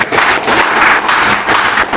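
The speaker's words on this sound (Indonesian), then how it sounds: "Tepuk tangan dulu buat komunitas ini." Loud, dense applause from a community gathering at a religious talk, rising and falling slightly in waves with no speech.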